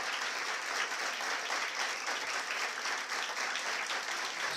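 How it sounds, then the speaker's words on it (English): A packed lecture hall in Mumbai keeps up continuous, uniform clapping, many hands blending into a dense, unbroken roar that holds steady without pause or speech. "तीन minute clap kar sakte hain aap"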